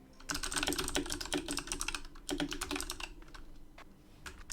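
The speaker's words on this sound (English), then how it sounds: "Guess who forgot to mute their mic so you heard my keyboard?" Rapid clattering keystrokes on a computer keyboard picked up by an unmuted microphone during a speedrun broadcast, close and continuous, with bursts of fast typing and a few slower taps near the end.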